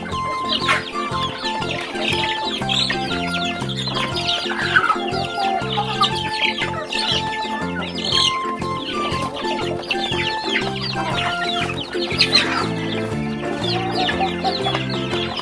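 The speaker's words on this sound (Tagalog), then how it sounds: "ito naman sa mga ka-chicken, yung ating mga Rhode Island Red na 1 month old" Flock of one-month-old Rhode Island Red chickens clucking and peeping steadily while feeding, many overlapping calls close by with no talk.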